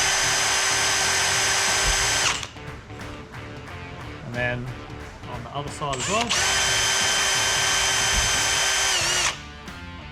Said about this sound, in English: you simply just drill through these two holes, just as a nice pilot drill